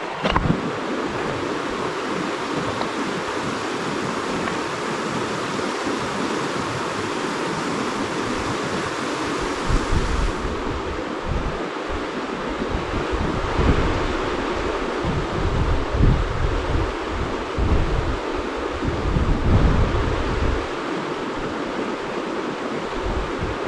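A cold Himalayan mountain river in Langtang Valley, Nepal, rushes loud and close in a continuous broadband roar, with gusts of wind buffeting the microphone and no voices.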